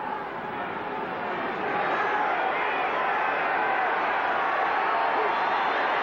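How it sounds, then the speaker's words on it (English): A stadium crowd at an American football game cheers in a broad, continuous roar that swells after the opening seconds and stays loud, with commentary talk beneath. "Crowd really warming to the occasion now."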